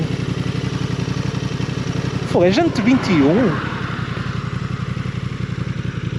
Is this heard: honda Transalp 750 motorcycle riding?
yes